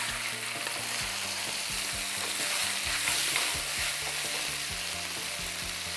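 Food stir-fries in a wok-style pot with a constant loud sizzle, while repeated scooping and stirring strokes scrape rhythmically against the metal.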